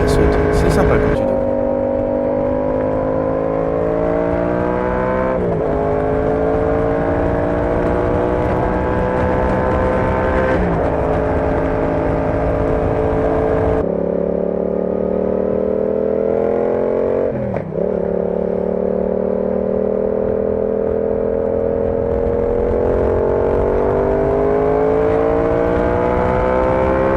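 A motorcycle engine drones steadily at close range while riding over a broken road. Its pitch rises and falls with several shifts and bumps, and the noise runs continuously throughout.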